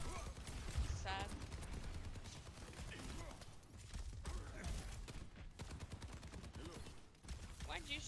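Dense, rapid gunfire in Overwatch 2, long stretches of fast repeated shots layered with other game effects, continuous and fairly busy, with voices talking over parts of it.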